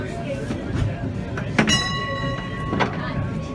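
A green tram running on rails, with low rolling rumble, a sharp clank near the middle and steady tonal squeal or bell-like ringing lines, while people talk over it.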